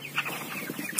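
Chickens about 37 days old in a winter poultry house, clucking in short soft bursts at close range, with a brighter squawk near the end and no talking.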